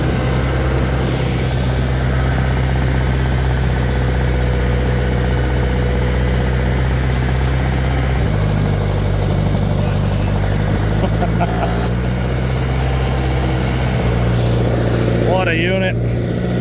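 An old, long-abandoned tractor engine runs steadily through planting work on a farm, a loud continuous low drone whose pitch shifts slightly partway through, with people talking over it.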